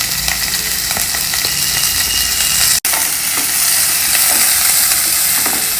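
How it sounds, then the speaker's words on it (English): Chopped onion with a dried red chili and hing fries in a pan, a loud, steady sizzle with occasional stirring scrapes and a brief break partway through, and no talk. "fry the onions lightly"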